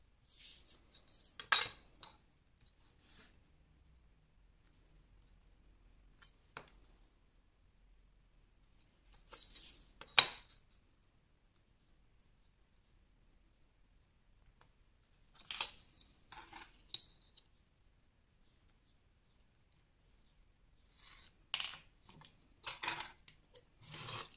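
Paper strip cut for a scrapbooking flip-flop box, sharp snips of scissors in a few scattered bursts, close and fairly quiet, with long pauses of near silence between them.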